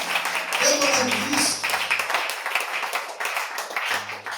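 A church congregation claps along, steady rhythmic clapping sustained under a sung or spoken voice with a low hum of music throughout.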